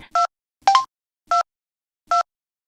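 Four short beeping keypad tones sound one after another from a mobile phone as its buttons are pressed, crisp and close in an evenly spaced rhythm.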